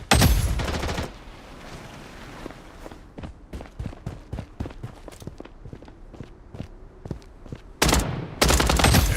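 Rapid bursts of video game gunfire crack through a firefight, with repeated sharp shots spaced across the middle and dense, loud volleys at the start and end; no one speaks.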